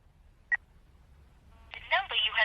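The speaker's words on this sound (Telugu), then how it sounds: "వాడు కాల్ చేసిన నంబర్కి మళ్ళీ కాల్ చేయి." A telephone gives a single short tone, followed by a brief burst of dialing tones as a number is entered. Both are close and clear over quiet room hum, with no talking.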